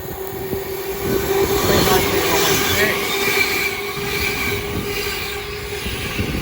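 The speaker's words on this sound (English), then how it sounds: "Here comes the Edinburgh to London service." An Edinburgh to London express passes through Watford Junction on the West Coast Main Line, a loud close rolling rumble of wheels with a sustained metallic whine.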